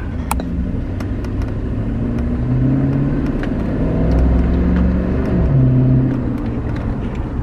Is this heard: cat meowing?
no